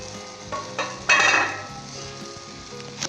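White brinjal masala in the Punjabi style cooks in a pan with a low, steady sizzle, broken by a few louder spitting bursts and soft stirring scrapes. The sound is close, with no one speaking.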